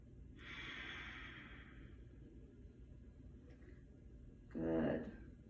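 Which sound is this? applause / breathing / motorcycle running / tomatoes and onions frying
breathing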